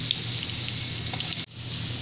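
Egg shami kababs fry in a pan with a steady, close hiss of sizzling oil and small pops, briefly dipping for a moment before the sizzle resumes.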